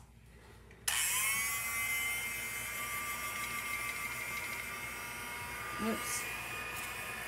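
A heat tool hums steadily after switching on, warming faux tile paint; a continuous electric whir runs throughout, with a brief word spoken early on.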